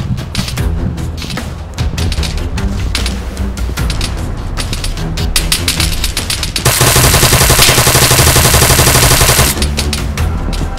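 Continuous loud rapid machine-gun fire in the video game Arma 3, dense automatic bursts laid down as suppressing fire, with a sustained, heavier barrage near the end, close and intense, no talking.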